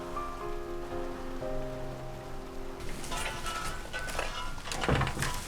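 Heavy rain pours down during a flood at Hari Raya time, a dense steady hiss rising midway with occasional thuds, preceded by soft tonal music.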